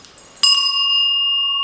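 Antique Hindu ghanta, a small house-shrine bell, struck once with a sharp attack and then a long, clear, sustained ring that barely decays.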